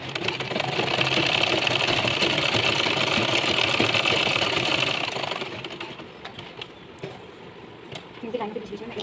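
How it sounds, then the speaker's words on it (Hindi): A sewing machine stitches a buckram bag panel with a steady, close mechanical whir for about five seconds, then runs slower and softer, and a voice is faintly heard near the end. "इनकी लाइन के बीच में मैं एक सिलाई लगा दूँगी।"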